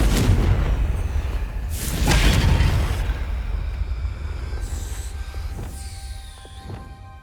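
A Confringo blasting spell going off in the video game Hogwarts Legacy: a heavy boom at the start and a second explosive burst soon after, fading into a rumbling tail with lighter game effects.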